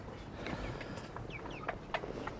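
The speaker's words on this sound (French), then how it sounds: "que ce soit les poules, les canards." Young hens and ducks in a backyard garden, with scattered clucks and short calls rising at intervals over a steady low outdoor background, moderately close and fairly quiet.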